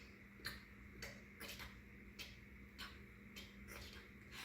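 A station clock ticks in a steady, even rhythm of sharp clicks about every half second, faint and alone against a quiet background.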